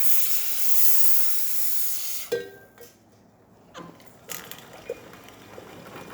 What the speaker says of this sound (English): Steam powerful.